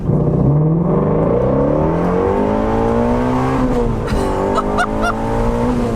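A 2020 Shelby GT350's Voodoo V8 engine revs up hard and loud on a back road, pitch climbing steadily through second gear with a harsh, throaty roar, close by.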